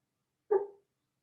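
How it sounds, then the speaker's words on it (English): A sleeping dog lets out one short, muffled bark, heard alone against silence. "the dog is barking in her sleep"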